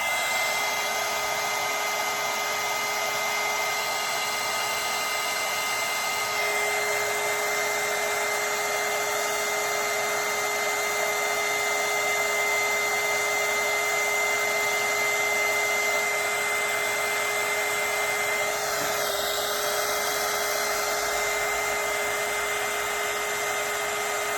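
Heat gun blowing hot air over an epoxy-coated tumbler, a loud, constant rushing roar with a steady tonal whine that runs without pause throughout and no voices.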